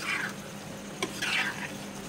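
Rice is stirred with biryani masala in a pot for egg and potato biryani, giving two soft scraping, rustling passes with a brief clink in between, close and fairly quiet, with no talking.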